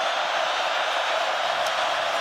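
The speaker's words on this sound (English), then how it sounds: "Crowd as loud as they've been all night" A large stadium crowd at a Stanford versus UCLA college football game, roaring and cheering steadily as a dense, continuous wash of noise with no distinct individual voices.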